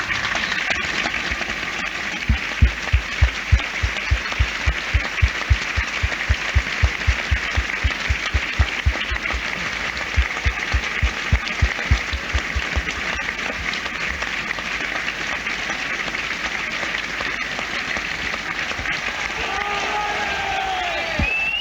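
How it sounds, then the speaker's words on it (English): At Turf Moor, a football stadium crowd gives a minute's applause in tribute, a vast, sustained roar of clapping and cheering. Rhythmic unison clapping runs under it for a stretch, then the ovation fades into general crowd noise and a voice. "We now ask that you join a celebration of Ian's life with a 1 minute's applause"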